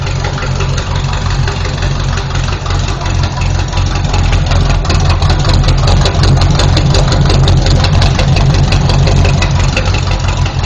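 A Chevrolet SS Nova V8 engine idles steadily and loudly up close through chambered exhaust pipes, a deep rumbling throb with a slightly uneven, lopey pulse throughout.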